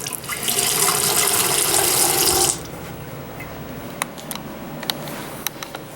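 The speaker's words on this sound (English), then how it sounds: "It was like this much water coming out." Water gushes steadily from a dorm bathroom sink faucet with a flow restrictor for a couple of seconds, then shuts off abruptly, leaving quiet room tone with a few small clicks.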